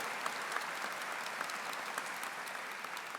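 A church congregation at Mass claps together in a brief, steady round of applause, heard from somewhat far off.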